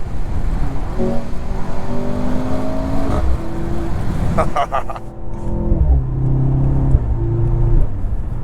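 A 2023 Mercedes C43 AMG sedan engine drones and revs with a steady, rising hum, loud and close, then settles into a lower growl with brief shifts in pitch.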